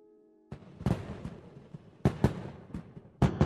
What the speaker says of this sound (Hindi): आतिशबाजी का प्रदर्शन कितना सुंदर